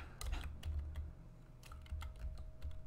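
Quick bursts of close computer keyboard typing, a rapid run of key clicks with short pauses between, over a low background hum.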